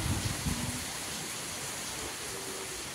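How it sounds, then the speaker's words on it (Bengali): Steady rain falls outdoors around a home, producing a dense, even hiss that lasts the whole time, with a few faint low sounds near the start. "এমনিতে বৃষ্টিটা চলে আসছে।"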